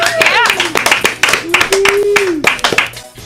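Clapping from an audience for a musical performer on a live music show, loud close hand claps mixed with whooping and cheering voices over the top.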